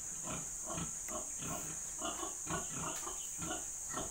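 A boar mounting a sow on a farm, with repeated rhythmic grunts and snorts close by against a constant hiss of background noise.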